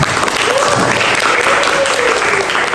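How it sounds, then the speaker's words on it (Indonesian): A classroom audience claps in a short, loud, dense burst of applause that carries evenly from start to finish, with a voice faintly audible beneath it. "Oke, tepuk tangan buat."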